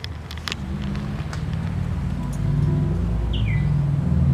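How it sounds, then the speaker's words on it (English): A Subaru car passes nearby, its engine and tire noise swelling into a steady low rumble that grows slightly louder toward the end, with a few faint bird chirps above it and no talking. "Did you guys just hear the Subaru?"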